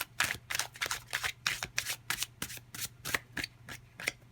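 Tarot cards shuffled by hand give a rapid series of crisp riffling slaps, about a dozen quick bursts in a fairly steady rhythm, close and clear with no voice over them.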